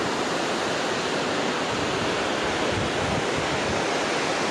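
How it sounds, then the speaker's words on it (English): A roaring waterfall along the trail up Stoney Indian Pass in Glacier National Park, Montana: a dense, steady rush of falling water that fills the air, loud and close, with no voices over it. "One hell of a waterfall."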